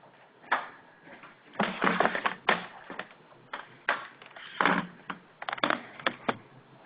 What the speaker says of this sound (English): We're just passing a keyboard around here.